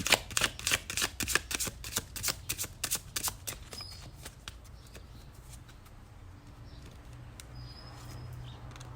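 Oracle cards being shuffled by hand, a quick run of crisp riffling bursts for about four seconds that then settles into faint, soft handling noise, with no voices.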